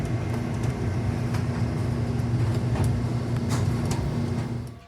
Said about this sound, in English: And another random mainline train.